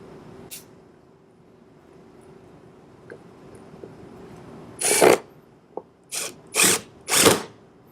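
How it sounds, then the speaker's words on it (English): A power drill drives screws into a wooden solitary bee house, a short whir first, then several bursts of whirring in quick succession toward the end, close and loud over a quiet room hum. "To make sure everything stays together and it's all lined up for the other side, we're going to put these screws in now."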